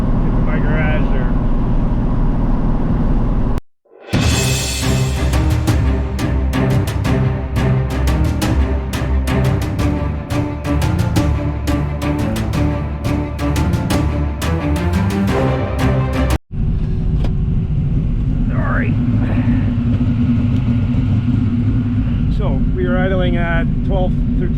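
Chevrolet Camaro V8 with a tunnel ram intake idles at about 1300 RPM, a loud, lumpy rumble that runs steadily with two brief cut-outs and then settles at a lower level.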